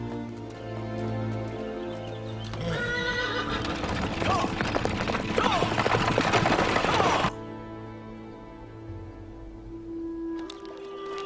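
Horses whinny loudly amid a busy stretch of hoof clopping, then it quiets to a softer background with faint neighs near the end.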